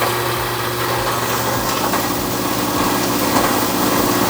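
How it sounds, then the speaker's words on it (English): A BDG Compact 1 mini granulator processing copper material runs with its bottom blower fan, giving a steady, loud mechanical drone with faint repeating low thumps throughout and no voices. "Right now I'm turning down the bottom blower fan."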